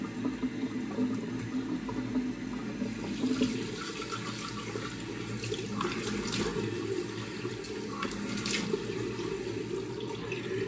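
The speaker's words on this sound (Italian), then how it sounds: "sciacquiamo il viso" Water splashing steadily at a sink while a face is rinsed after a wet shave, heard as continuous running and sloshing close by, with no talking.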